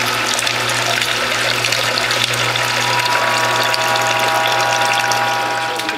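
A juice press squeezes watermelon with rind, turmeric and ginger through bamboo liners. It gives a continuous mechanical hum with a steady low drone and fluid, ratcheting texture, loud and unbroken with no talk.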